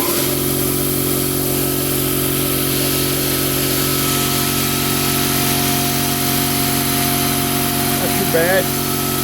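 A Quincy 5hp air compressor running after a fresh install, a loud, steady, close motor drone with constant tonal hum that holds without pause throughout.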